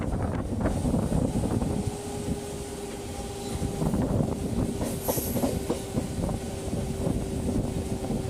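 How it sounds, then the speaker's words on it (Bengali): A local train runs on the rails with a steady rumble and rhythmic clickety-clack of the wheels, a faint wheel squeal along the way, heard close from inside with no one talking. "প্রায় 15 মিনিট পর ট্রেন তার নিজের ছন্দে ফিরল"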